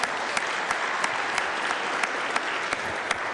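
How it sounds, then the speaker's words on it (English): Steady applause from an audience in the West Virginia Legislature, honouring a high school instructor, with scattered sharper claps standing out from the even wash throughout, moderately quiet. "Give him a nice round of applause."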